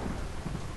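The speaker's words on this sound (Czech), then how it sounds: "Prší, hřimí. Je noc." Steady rain with a low thunder rumble at night in Minecraft with the Tekkit 1.5.2 modpack, a brief dense wash of noise with no voices.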